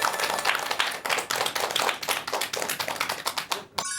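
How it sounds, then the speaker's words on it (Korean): A lecture audience welcomes a neuroscientist with a round of applause, the clapping close and irregular and easy to pick out as separate hands, then breaking off abruptly near the end. "여러분 큰 박수 부탁드립니다."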